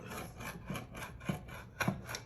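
A knife cuts and scrapes honeydew melon for salsa, giving soft, quiet rasping strokes that repeat at a steady pace about every half second, close and fairly faint.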